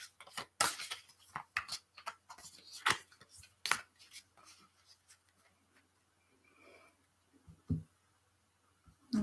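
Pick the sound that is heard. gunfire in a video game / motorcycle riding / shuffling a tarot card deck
shuffling a tarot card deck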